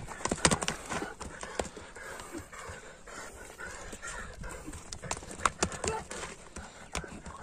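A young horse's hooves clip-clop in an uneven, scattered pattern on the ground, close by but fairly faint, with some breathing and low talk in the background.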